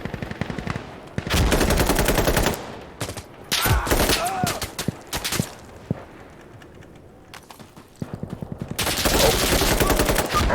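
Bursts of automatic gunfire and rapid shots from the first-person shooter Insurgency: Sandstorm, loud sustained volleys separated by pauses with scattered single shots.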